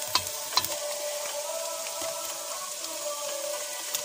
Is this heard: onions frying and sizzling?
yes